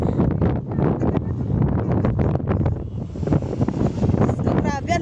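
Cold wind gusts buffet a microphone outdoors in the red sand area near Riyadh, Saudi Arabia, in loud, rumbling bursts, with voices talking intermittently beneath.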